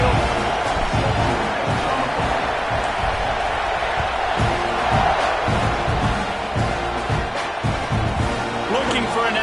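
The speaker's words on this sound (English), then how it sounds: "Do you think this crowd's going to get loud when their defense comes on the field?" Dense stadium crowd roar from an NCAA college football video game, a steady loud wash of cheering and noise filling the whole stretch with no break.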